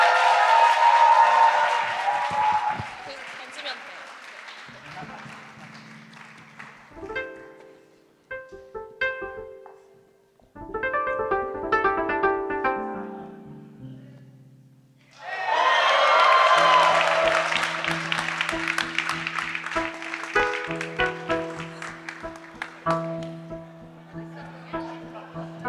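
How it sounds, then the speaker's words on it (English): Guests at a Korean pyebaek wedding ceremony cheer and clap in loud bursts, with whoops at the start and again in the second half. Musical tones and quieter stretches sit between the bursts. "Please give a round of loud cheer for the groom's parents"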